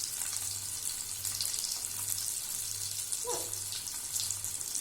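Sausage frying in a pan makes a bright, steady hiss with occasional crackles, close up, over a low intermittent hum, with a brief scrape of stirring and no voices.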